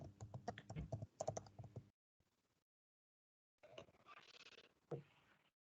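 Close, quick typing on a computer keyboard, a fast clatter of keystrokes that stops, leaves a short silence, then starts again more softly.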